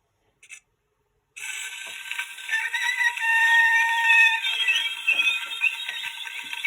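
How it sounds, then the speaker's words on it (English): A brief click, then a roughly 100-year-old Mikiphone portable phonograph plays a record at full speed: thin, scratchy, tinny sound that holds steady and fairly loud with crackly surface noise. "So we pull this back to get the record to play."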